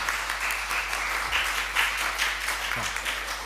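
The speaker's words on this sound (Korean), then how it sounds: "우리 꽃 같이 우리 박수로 좀 이렇게 주시면 감사하겠습니다" Steady audience applause fills a church hall during a Korean deacon ordination service, dense continuous clapping from many hands at moderate distance, with no talk over it.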